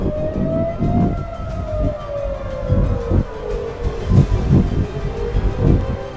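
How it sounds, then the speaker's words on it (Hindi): Civil defense air raid sirens wail across Tel Aviv, Israel, during missile launches from Iran, a long rising-and-falling tone that carries continuously for the whole stretch over rumbling low noise and gusts. "इसराइल में अभी सायरन्स बज रही हैं।"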